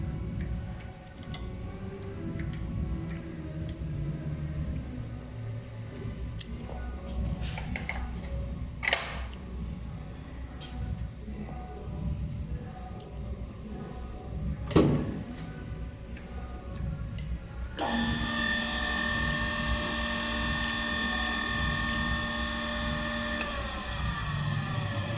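A GAMMA corner crimping machine runs steadily, giving off irregular mechanical ticks and clicks over a low workshop hum, with a brighter whirring tone joining near the end and no talk.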